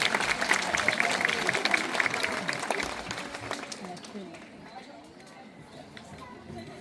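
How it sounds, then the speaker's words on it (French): Audience at a zoo show applauding an orca demonstration, moderately distant clapping that swells and then fades out after about four seconds, leaving quieter ambient crowd noise. "Et on peut applaudir notre jolie orque pour cette belle démonstration."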